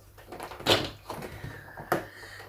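Small cardboard door of a cosmetics advent calendar being opened, a couple of close, soft rustling clicks and taps from the cardboard flap, with no talk over it.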